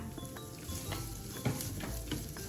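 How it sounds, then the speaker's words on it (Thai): Ham fries over medium heat in a pan for a spaghetti carbonara sauce, a soft continuous sizzle with light stirring scrapes, fairly quiet and close. "ตั้งไฟกลางๆนะคะ แล้วก็เอา แฮมลงไปทอดให้หอมนะคะ"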